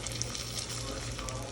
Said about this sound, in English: So you hear the sizzle, you're just gonna go ahead and add the corn to your pot and stir it up here.